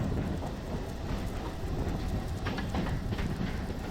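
The Gudur MEMU Express 17260 from Vijayawada rolls along steadily, a dense, loud rumble of wheels on rails with faint rhythmic clacking running throughout.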